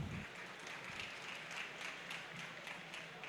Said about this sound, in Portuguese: Então, por favor, uma salva de palmas para Maísa Pimenta Goulart.